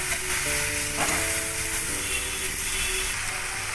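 Poppy seed paste ground with salt, green chilli and mustard oil, frying in a pan: a steady, close sizzle with faint clatters of stirring, and no talk.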